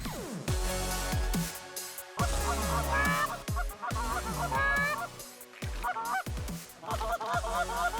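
Canada geese honk loudly and repeatedly in a close flock over an oat field during a Manitoba field hunt. Their calls come in bursts of overlapping, nasal cries with short gaps between them.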